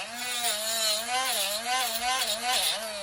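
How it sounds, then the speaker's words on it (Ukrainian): A loud, continuous grinding whine with a wavering pitch as an angle grinder scrapes silver-plated copper, steady for several seconds up close. "Давай для начала чухнемо болгаркою да, цю посріблену мідь"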